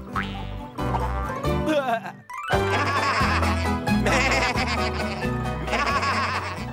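Cartoon sheep bleating playfully in a children's tractor animation, several voiced bleats over a loud continuous musical score.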